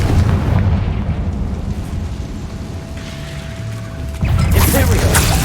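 An explosive Confringo spell detonates in Hogwarts Legacy, a loud booming blast arriving near the end after a low rumbling stretch of game ambience.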